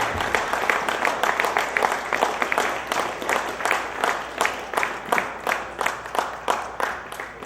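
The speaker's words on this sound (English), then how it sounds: "giving him another round of applause" An audience applauds David Rico at a live-streamed gathering, clapping together in a steady unison rhythm for several seconds, loud and fairly close with a roomy echo.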